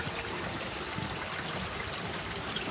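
Stream water flows steadily in a woodland, a continuous broadband trickle and rush heard close up with no talk over it.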